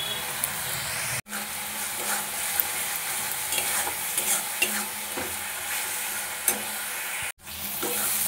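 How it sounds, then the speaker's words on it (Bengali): Onion, ginger and garlic fry in a pan as tomato paste and turmeric powder are stirred in, giving a steady sizzle with scraping spoon strokes, broken by two brief quiet gaps. "এবারে টমেটো পেস্ট দিয়ে দেবো। এর মধ্যে দিয়ে দেবো হলুদ গুঁড়ো"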